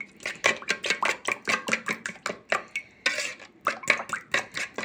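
Eggs with spices are whisked in a bowl, a close, quick rhythmic clinking of whisk against the bowl repeated many times with a brief pause partway through.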